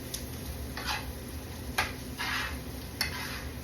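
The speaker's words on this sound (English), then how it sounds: "So I just mix those real good" Seasoned asparagus being tossed and stirred in a pan, giving three short scraping, rustling bursts over a faint steady background hiss, with no talking.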